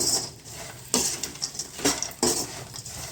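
A spoon stirring fried okra pieces and peanuts into curry in a pan, giving a few scraping, clattering strokes against the metal at an uneven pace, close and moderately quiet, with no speech.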